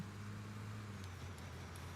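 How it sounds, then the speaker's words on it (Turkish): A car engine in Construction Simulator hums steadily at low level, a continuous droning vehicle pass with a faint whoosh and no break. "Araba sesi geliyor."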